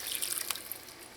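Seasoned marinade water poured from a bowl into a pan of cooking chicken for Chinese stew chicken, a brief soft trickle and splash heard close by.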